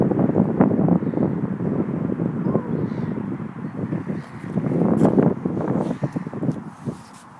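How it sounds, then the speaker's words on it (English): Steady wind blowing outdoors around a small homemade cardboard and cling film boat on water, a continuous low rushing buffet on the microphone with gusty swells throughout. "The wind's blowing"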